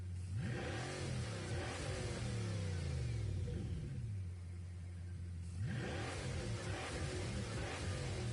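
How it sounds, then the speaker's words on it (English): Bugatti W16 engine in the Gran Turismo 7 racing game, revving up loudly, dropping back, then climbing again in a second strong pull, heard alone with no talk. "We'll get the W16 Bugatti engine."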